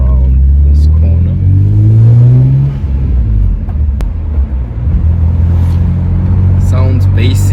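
A BMW E46 M3 accelerating around a corner, its deep, bassy engine note rising steadily and loud from inside the car, then settling into a steady drone.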